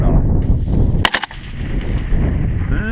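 An AK-47 rifle fires a short automatic burst of three or four loud, sharp cracks close by, followed by echoing reverberation and ambient noise.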